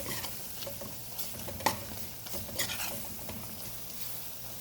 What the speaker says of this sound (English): I'm going to add the curry powder and allow it to cook for 3 minutes.